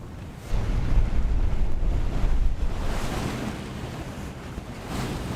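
Sea swell left over from a gale surges around a sailing yacht tacking out of Brixham Bay, with gusty wind buffeting the microphone and broad waves of rushing water rising and easing, no voices.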